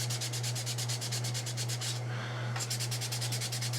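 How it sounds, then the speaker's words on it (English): Hand sanding with a 220-grit sanding sponge, steady rhythmic back-and-forth strokes close by with a brief pause midway, over a constant low electrical hum. "This is just a sanding sponge here. 220."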